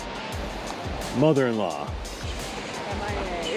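Rushing water from a waterfall at Wahkeena and Multnomah Falls, a steady broadband roar filling the whole clip beneath a voice speaking close by.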